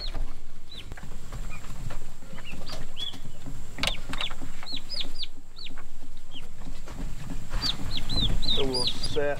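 Young turkeys in a brooder on wood shavings give repeated high peeping chirps, some in quick runs, over a busy background of scratching and shuffling, fairly close with no talking.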